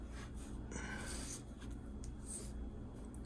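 A pencil sweeping a half circle across paper, producing faint, soft scratchy strokes in a few short bursts with no talk.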